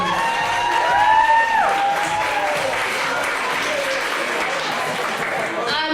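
An audience applauding at a college presentation evening for an award winner, a steady, dense wash of clapping that carries loud throughout, with voices calling out over it.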